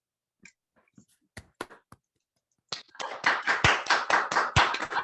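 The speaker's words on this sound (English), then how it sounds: "can we please have a huge round of applause for all those who gathered here virtually" Clapping at a virtual college student awards evening: a few scattered, hesitant claps at first, then a steady burst of close hand claps from a small group, fairly quiet overall.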